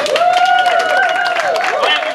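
Audience applause at a stage play in 2014 as a singer is welcomed, a dense, steady clatter of many hands filling the whole stretch with a sustained musical tone running beneath it.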